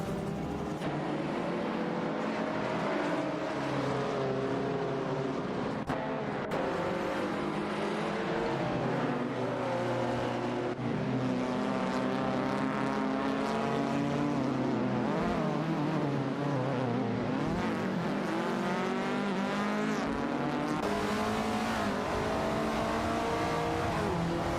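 Race cars in a racing video game roar off the starting line together, a dense, continuous wash of revving engines at steady loudness, with shifting pitches as the pack accelerates and no talk over it.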